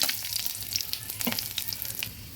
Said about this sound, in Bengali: সঙ্গে দিয়ে দিলাম সামান্য পাঁচফোড়ন ভালোভাবে নেড়ে দিচ্ছি